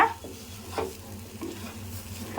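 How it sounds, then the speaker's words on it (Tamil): Halwa mixture with boiled milk stirred in a pan over low heat, a soft steady sizzle with a few scraping strokes of the spoon recurring through the short stretch, close and moderately loud, no voices. "நல்லா சிம்மிலே வச்சு நல்லா மிக்ஸ் பண்ணிவிடுங்க."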